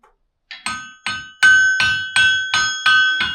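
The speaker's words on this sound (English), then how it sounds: "You would go and kind of hit your anvil, strike it," A blacksmith's hammer strikes an anvil eight times in a steady rhythm, each blow a loud bright metallic ring that decays before the next, close by and alone, at a 19th-century smithy in a historic village.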